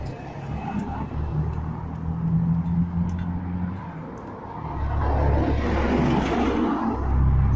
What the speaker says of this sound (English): Cars are noisy.